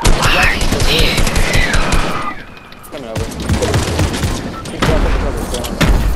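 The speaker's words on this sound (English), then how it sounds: "I just heard someone shoot." Rapid automatic gunfire and bursts of shooting in the video game Fortnite, loud and dense, with a brief lull midway before the firing resumes, mixed with game effects.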